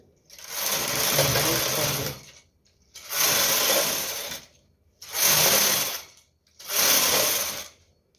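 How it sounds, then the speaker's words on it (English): Knitting machine carriage pushed across the needle bed knitting rows for a lace crop top, four separate whirring, ratcheting passes of about two seconds each with short pauses between, close and fairly loud, no talk. "remove the carriage from hold and knit 2 rows"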